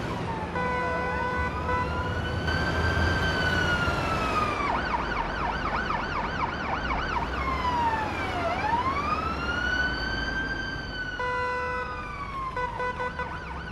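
An ambulance siren wails steadily, sweeping through rising and falling tones and switching between wail and yelp patterns, loud and close with no talking over it.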